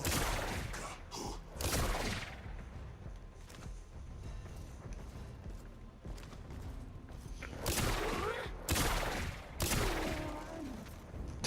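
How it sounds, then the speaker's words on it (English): Gunshots in the Warframe video game, with sharp cracks and bursts of gunfire spread across the stretch, some clustered rapid shots and booming hits over a game background. "Took 3 shots because I shot him in the back once."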